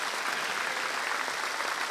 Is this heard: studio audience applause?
yes